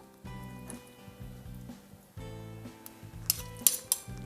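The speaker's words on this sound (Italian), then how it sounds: "con un cucchiaio andiamo a recuperare" A spoon scooping soft oven-baked pumpkin pulp into a bowl, a series of close clinks and scrapes of metal on the bowl with soft squishy pauses between them, growing brighter toward the end, no talk.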